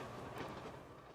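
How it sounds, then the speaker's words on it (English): A train sound effect plays during a tabletop role-playing game session: a steady, faint rolling rumble with a dull, continuous wash, no voices over it. "That's a train."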